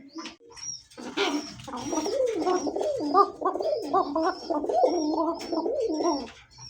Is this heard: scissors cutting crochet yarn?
no